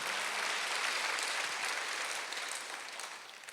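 A congregation claps during a Sunday church service, producing a steady, dense patter of applause that slowly fades toward the end.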